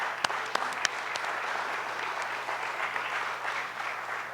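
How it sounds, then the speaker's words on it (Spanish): Audience applause breaks out to welcome a speaker at a judicial event in Cuernavaca, Morelos: steady, dense clapping from a full room sustained for several seconds, with a few sharper nearby claps standing out near the start. "para quien pido un gran aplauso."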